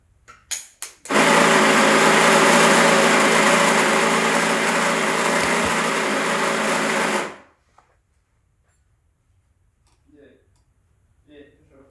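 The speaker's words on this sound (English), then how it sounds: "So set up my grinder to 19 grams." A coffee grinder runs a 19 gram dose of beans for a Breville BES920 espresso setup, giving one steady, loud whirring grind of about six seconds after a few short starts, then stopping abruptly. Quiet voices follow.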